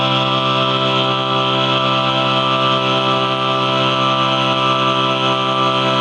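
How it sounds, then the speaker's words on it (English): Voices sing a sustained triad in equal temperament as one steady held chord, loud and close, with no break across the whole stretch. "And here's the sound of the one on the piano, our equal tempered system being sung."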